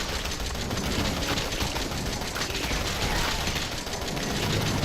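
Sustained gunfire from shooting in Resident Evil 7, a dense and loud stream of rapid shots that goes on without a break, with no talk over it.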